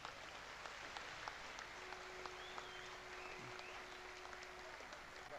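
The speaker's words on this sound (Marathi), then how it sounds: "या सर्वांसाठी एकदा जोरदार टाळ्या." Faint, distant crowd applause at a Shiv Sena anniversary rally rises as a steady wash of clapping that holds for several seconds.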